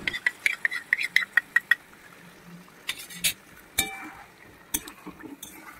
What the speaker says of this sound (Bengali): আমি একটা পাত্রের মধ্যে সব মশলাগুলো এক জায়গায় করে নিয়ে সামান্য এর মধ্যে জল দিয়ে ভালো করে মিশিয়ে নিয়ে